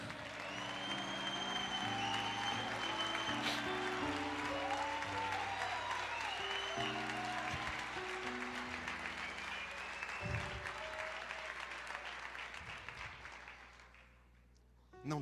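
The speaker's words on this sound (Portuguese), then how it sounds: "Aplauda o Senhor, diga, eu creio." A church congregation claps and cheers at a sermon, sustained loud applause filling the room over a backing of keyboard music, then fading away near the end.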